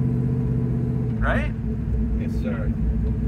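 A 1969 Chevrolet Chevelle with a 454 V8 rated at 550 hp idles with a steady, loud, lumpy rumble throughout while someone talks over it.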